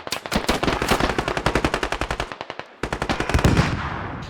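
Rapid automatic gunfire from a video game skirmish, a long burst of evenly spaced loud shots that pauses briefly and then resumes, close and dominant with no talk over it.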